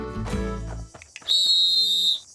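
A cartoon whistle is blown in a children's outback show, a single loud, sustained shrill tone lasting about a second, preceded by brief clattering and a short voice.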